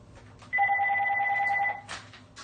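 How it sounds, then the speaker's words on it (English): A telephone rings once with a bright steady electronic tone lasting about a second, loud and close over a quiet room. "excuse me, I have to block the phone so I can finish the reading."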